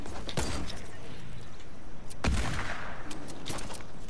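Sniper shots ring out in a low-gravity one-shot video game match, two sharp reports standing out among scattered cracks and background game noise.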